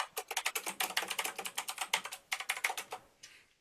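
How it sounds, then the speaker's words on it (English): Rapid clattering keystrokes on a big, fancy gamer computer keyboard, close and steady in quick bursts for several seconds before trailing off, with no talking. "Somebody's typing."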